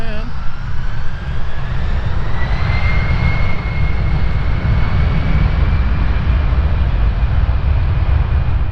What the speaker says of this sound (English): One final plane, a big one also.